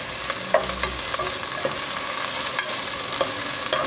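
Onion, ginger and garlic sauteing in a pot for batsoy, giving a steady close sizzle with occasional scraping stirs and clinks from a utensil.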